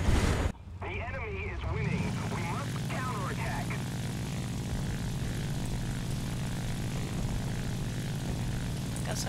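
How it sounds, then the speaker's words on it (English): A bomber plane's propeller engines drone loudly and steadily in the War Thunder video game, a dense continuous roar filling the scene after a short sharp cut, with a voice talking briefly over it at the start. "Bomber plane this time?"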